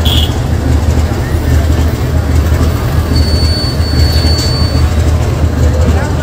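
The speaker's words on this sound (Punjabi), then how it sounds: "ਆ ਸੰਗਰੂਰ ਰੇਲਵੇ ਸਟੇਸ਼ਨ ਦੇ ਉੱਤੇ ਅਡਾਨੀ ਦੀਆਂ ਟ੍ਰੇਨਾਂ ਚੱਲ ਰਹੀਆਂ ਨੇ" A train runs at Sangrur railway station, a loud, steady rolling rumble of wagons throughout, with a thin metallic wheel squeal rising midway.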